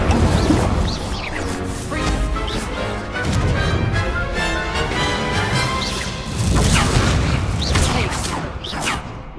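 Fire spell cast repeatedly during a duel in the Hogwarts Legacy video game, with loud crashing blasts and bursts of impact in several waves over busy game sound effects.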